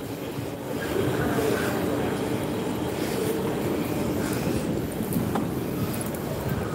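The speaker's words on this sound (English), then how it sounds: "the other R train is gonna enter platform 4" An MTR East Rail Line R train rolls into a platform with a steady loud rumble of wheels on rails, faint squeals and clatter throughout, heard from the platform nearby.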